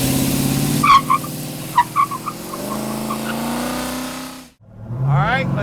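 A 1966 Chevrolet Chevy II Nova pro street car with a big-horsepower engine idles loud and close with a lumpy rumble and a few sharp blips. It drops out briefly near the end, then picks up again with a rising rev.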